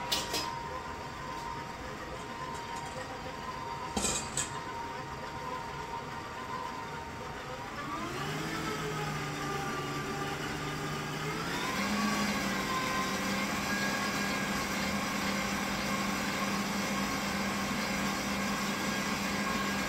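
An electric mixer beating German chocolate cake batter hums steadily and fairly quietly, shifting up in pitch partway through as the speed changes, with no talk over it.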